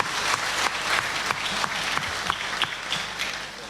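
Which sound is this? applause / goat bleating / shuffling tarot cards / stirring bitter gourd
applause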